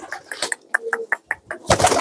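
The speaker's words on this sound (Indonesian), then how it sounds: "Nih merpatinya seperti ini," A large grey racing pigeon from Temanggung's Ngadirejo market coos in a series of short, soft pulses close by, ending with a louder rustle or flutter.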